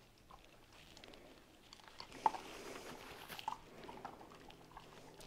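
A dog crunches through a bowl of kibble at dinner, giving faint, irregular bites and chewing close by in a quiet room, with no talking.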